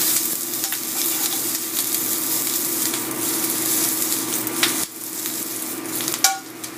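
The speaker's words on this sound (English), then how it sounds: "Okay, the baby kale. A quick saute on that." Baby kale sautéing in a hot pan, a steady close sizzle with stirring and scraping throughout, a brief dip near the end, no talking.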